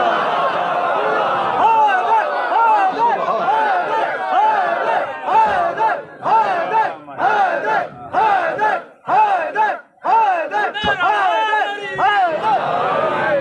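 A large majlis congregation at an 8 Muharram mourning gathering chants religious slogans in unison, loud and close, in repeated rhythmic bursts with brief pauses between them.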